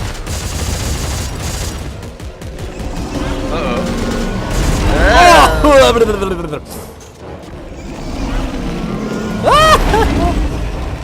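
Gunfire and combat effects burst from Dead Space 3, with bursts of shots, booms and creature shrieks rising and falling over a rumbling game soundtrack, while players talk.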